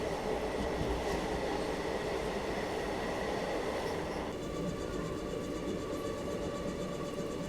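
Jhansi–Pune special passenger train running on rails along an Indian loop line, a continuous loud rumble with rattling carriages and a faint rhythmic clatter heard from inside the coach.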